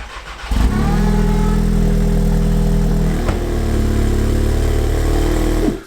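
A tuned 600bhp Volkswagen Golf R fires up and settles into a loud, deep, steady engine drone very close by, with a brief blip of the throttle partway through.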